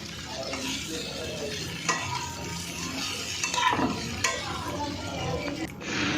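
Fried paneer with cauliflower and potato being stirred in a pan, close scraping and clinks of a utensil over a low sizzle, with a few sharper knocks.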